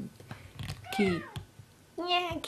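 A cat meows twice, two clear drawn-out cries separated by a short pause, close and fairly loud over faint room noise.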